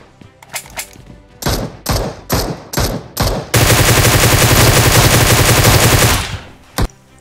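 Several sharp gunshots ring out in quick succession in PUBG, then sustained rapid machine-gun fire, ending with a single last shot.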